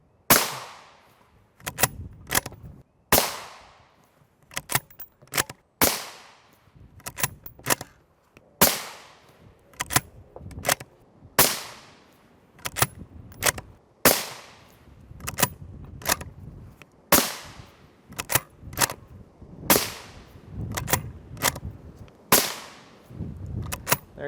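Rifle shots of 5.56 M855A1 rounds striking a Highcom 3S9M Level III++ armor plate, a long series of sharp, loud cracks spaced unevenly, each with a ringing decay, over roughly two dozen seconds.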